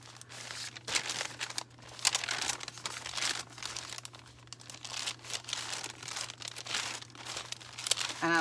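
Sheets of coffee-dyed composition paper crinkle and rustle as they are handled up close, with irregular crisp bursts over a steady low hum and no talking.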